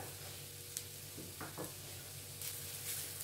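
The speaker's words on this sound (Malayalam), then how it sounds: "അതിനകത്ത് ഞാൻ കുറച്ച് തേങ്ങ തിരുമിയത് ഇത് തേങ്ങ തിരുമിയത് തന്നെ നമുക്കിതൊന്ന് വറുത്തെടുക്കണം ചെറിയ തീയിലിട്ടിട്ട്" Grated coconut roasting in coconut oil over a low flame for a chickpea curry gravy makes a quiet, steady sizzle with a few soft stirring scrapes partway through, and no speech.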